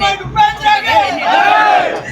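A large crowd roars and cheers at a film re-release screening of Upendra, loud continuous whoops and yells blending into a dense babble for the whole stretch.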